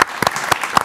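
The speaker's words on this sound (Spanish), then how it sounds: "Un aplauso." Studio audience applause on a celebrity talk show: a few sharp, close claps in quick succession, brief and spread across the moment.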